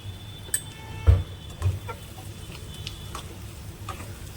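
A tempering of garlic and dry red chili in hot oil for khichdi, a soft steady sizzle with a few louder clattering knocks and scrapes from a pan or spoon, no voices.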